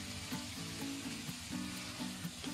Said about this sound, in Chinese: 用铲子翻炒均匀。